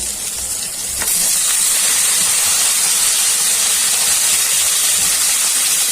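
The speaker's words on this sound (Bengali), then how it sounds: "বেগুনটা ভাজা হয়ে গেছে, এখন সাথে দিয়ে দিচ্ছি টমেটোটা একসাথে ভাজা ভাজা করে ভর্তাটা বানাবো" Eggplant and tomato fry together in hot oil for a mashed vegetable dish; a quieter hiss jumps to a loud, steady, close sizzle after about a second, as if fresh pieces hit the oil, with no talking.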